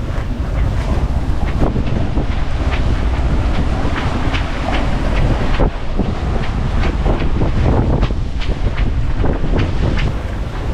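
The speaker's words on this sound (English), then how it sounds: "And blowing quite hard out here." Strong wind of around 30 knots while sailing out of San Francisco Bay past Alcatraz toward the Golden Gate. A loud, continuous roar buffets the microphone throughout, with no talking.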